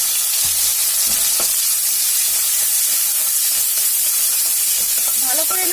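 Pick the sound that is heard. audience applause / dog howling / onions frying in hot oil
onions frying in hot oil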